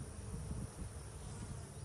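Honey bees buzz steadily at a nuc hive, a dense, continuous low hum from many bees close by, with no voices.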